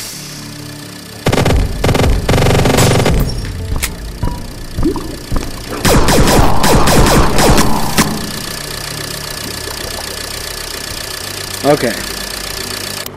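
Rumbling tank engine with bursts of rapid gunfire in an 8-bit style VR shooter game, loud knocking engine tone and sharp shot bursts, followed by quieter stretches, with someone speaking briefly.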